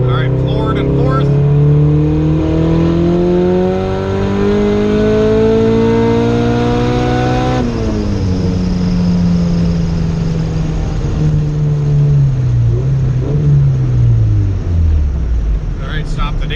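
Honda Civic tuned with Hondata boost control and Megan Racing traction bars, pulling hard at full throttle in fourth gear: loud, steadily rising engine and boost note heard from inside, with a brief shift-like dip midway and gradual fall near the end.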